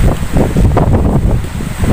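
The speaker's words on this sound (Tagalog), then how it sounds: "So bali ito nga yung hangin dito. Malakas na mga kalapatids, oh." Strong typhoon wind roars and buffets against the microphone in loud, gusty waves of rumbling noise.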